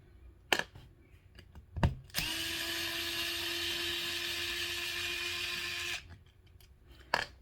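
A power drill backs screws out of a wheel during a tire installation, one steady whirring run of about four seconds framed by a few clicks and handling knocks.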